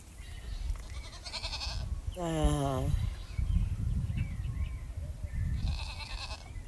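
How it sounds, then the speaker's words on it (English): A baby goat bleats once in a clear, quavering cry near the middle, close by, with a person talking quietly and outdoor farm noise around it. "There's my little baby goat right there, my nephew goat."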